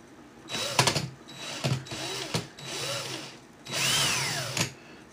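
A power drill spins 38-gauge wire held in its chuck to wrap a clapton coil for a vaping build. About five short, close whirring bursts of rising and falling pitch are separated by brief pauses.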